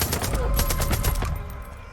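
Rapid pistol gunshots in Far Cry 5 co-op gameplay, a quick run of loud, close shots fired one after another, with game noise underneath.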